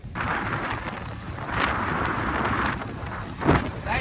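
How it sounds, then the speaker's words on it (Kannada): Light rain and wind outdoors, with steady broadband hiss and buffeting gusts on the microphone and no talk. "ಸೊ ಮಳೆ ಹೊಂಟದ, ಅದಕ್ಕೆ ಮಳೆ ಸಣ್ಣ ಹನಿ ಕಡೆ"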